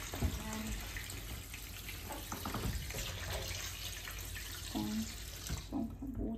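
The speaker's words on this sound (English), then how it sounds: "Now I'm gonna add the water." A kitchen tap runs steadily to rinse chicken legs, a continuous faint hiss of splashing water that goes on for several seconds, with a few soft clinks and shifts in the flow near the end.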